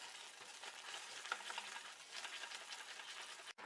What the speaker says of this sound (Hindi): गुड़ अब अच्छे से मेल्ट हो गया है और साथ में ये उबलने भी लगा है